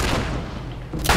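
A single heavy, booming sniper shot from the video game The Last of Us Remastered, set at the Hydroelectric Dam, with a loud initial blast that rumbles on and a sharp second crack near the end.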